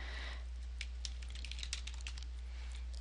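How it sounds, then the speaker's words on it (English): Typing on a computer keyboard makes a quick run of light, irregular key clicks, close and fairly faint over a steady low hum, with no voices. "Same thing, just type that in."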